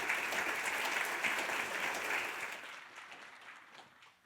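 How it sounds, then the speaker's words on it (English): A conference audience applauds panellists in a dense burst of clapping that holds steady for about two seconds and then gradually fades away. "A round of applause, please, for all of our panellists."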